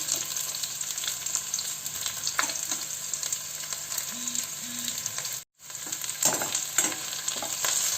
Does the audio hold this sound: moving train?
no